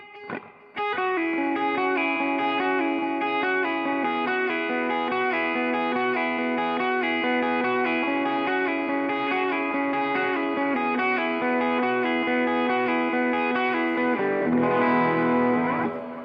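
A clean electric guitar plays through a Source Audio Atlas compressor pedal. A sustained, even chord rings with a full, steady level for about fifteen seconds, then a fresh strum near the end, with no voices.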